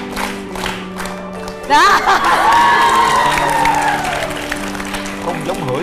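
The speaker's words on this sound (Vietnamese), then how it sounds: "má vỗ tay luôn rồi kìa" A burst of clapping and cheering from a TV dating show audience erupts after a short spoken word, with excited voices shouting and chattering over the applause.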